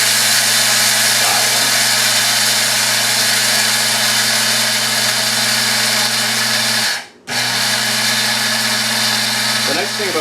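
A grinder runs continuously as it mills rice into flour, a loud, steady motor whine up close that cuts out briefly for a moment before starting up again.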